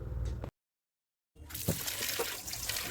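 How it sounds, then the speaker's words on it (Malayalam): Water splashes and trickles as fish are washed with salt water, close and steady, cut by a brief silent gap before the rinsing resumes. "മീനൊക്കെ നന്നായിട്ട് ഉപ്പൊക്കെ ഇട്ടിട്ട് നന്നായി കഴുകിയെടുത്തു"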